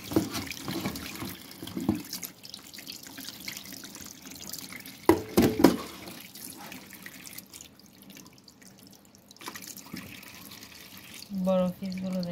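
Tap water running and splashing in a sink while a large ribbonfish is cleaned, with intermittent clatter and handling noises nearby and a person talking at times over the flow.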